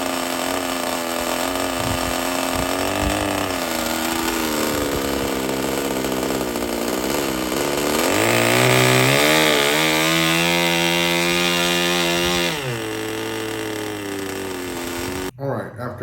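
A vintage Thunder Tiger 25 nitro model engine running on a bench, a loud, buzzing high-revving whine that holds steady, climbs in pitch midway, then drops back before cutting off abruptly.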